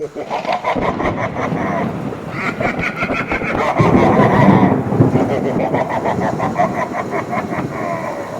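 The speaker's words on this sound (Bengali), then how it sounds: "প্রচন্ড বৃষ্টি হচ্ছে" Heavy rain and rumbling thunder in a Bangla cartoon, a loud, dense, steady roar of downpour with a deeper swelling rumble partway through, continuous and close.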